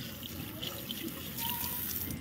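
Water running from a tap into a sink for hand washing at a family birthday gathering, a soft steady stream heard up close and fairly quiet, with faint voices in the background.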